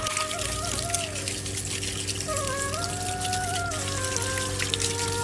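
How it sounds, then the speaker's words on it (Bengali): Whole koi fish are rinsed by hand in water for a Bengali curry, giving soft, continuous splashing and trickling over a faint tonal background hum. "মাছগুলো আমি এখন ভালো করে ধুয়ে দিচ্ছি।"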